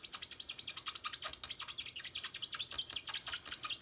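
Hard, fast circular coloring on paper makes a steady run of scratchy rubbing strokes, several per second. They are close, crisp and rhythmic, with no talking.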